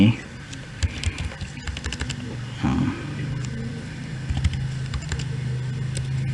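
A location is typed into a Gmail calendar event on a computer keyboard: light, irregular key taps run throughout, close and fairly soft, with talking over them.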